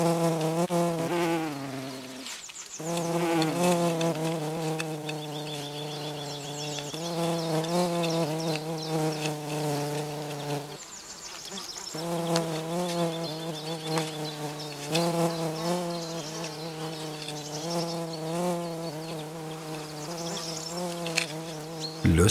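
A mason bee (Osmia) buzzes at close range while working at its nest, a sustained droning hum that wavers in pitch with brief pauses, heard alone.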